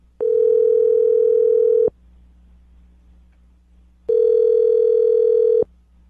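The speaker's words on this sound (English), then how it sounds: "I'm going to dial the phone number right now, get him on the phone" Two long steady telephone ringback tones, each about two seconds, separated by a pause of silence, loud and clear.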